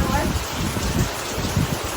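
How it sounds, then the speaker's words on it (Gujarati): Steady rain patters and hisses all around, a soft, even wash of drops with faint background murmur. "વરસાદ આવ્યો."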